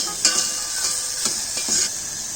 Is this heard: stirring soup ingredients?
yes